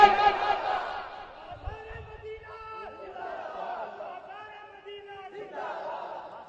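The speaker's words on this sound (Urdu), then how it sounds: "نعرے بہت لگ رہے ہیں" A crowd at a devotional naat gathering shouts religious slogans in unison, voices rising in loud collective cries, then holding long sustained chanted tones with a brief babble between bursts, the room's echo carrying each call.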